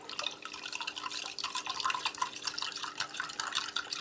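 About three quarters of a glass of water trickles into a Norwegian Army arctic field ration pouch onto granular yellow powder, a close, continuous splashing pour with bright liquid sparkle throughout, no voices.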